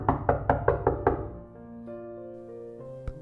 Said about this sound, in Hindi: साउंड आया उस दरवाजे से।